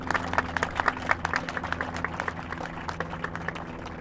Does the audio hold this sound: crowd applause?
yes